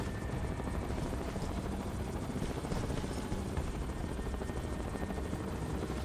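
Helicopter in the video game Ghost Recon Advanced Warfighter 2 flying steadily, with a dense rotor roar and engine rumble holding loud and unbroken throughout.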